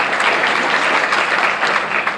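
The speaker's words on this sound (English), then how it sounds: "just one more applause for all of them" A school audience at a leadership day event applauds steadily, with dense, sustained clapping from many hands filling the whole stretch and no pause in it.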